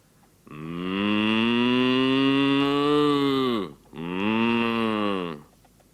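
A cow moos loudly and close by, one long low call followed by a shorter second moo.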